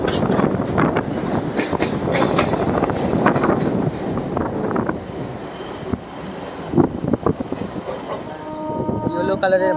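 A Sealdah–Diamond Harbour galloping local train runs between Sealdah and Park Circus at reduced speed, with loud rumbling and rattling of the carriages, wind buffeting the microphone, and sharp clanks over the track as it moves.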